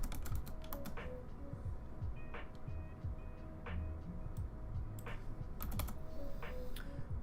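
Quiet, rapid clacking of a computer keyboard runs steadily throughout, close and alone, with a few sharper key taps standing out.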